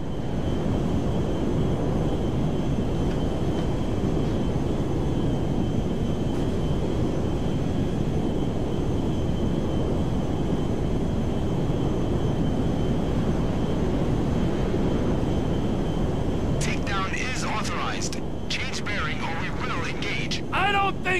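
An airplane in the GTA V video game comes in to land at Mackenzie Field, a steady loud engine drone filling the whole stretch, with brief chirpy sounds near the end.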